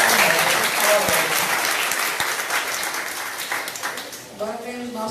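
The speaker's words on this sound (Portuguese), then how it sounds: "merece uma salva de palmas bem forte" Loud applause from a large crowd at a São Pedro novena service, steady clapping that fades slightly toward the end, with a voice starting to speak at the close.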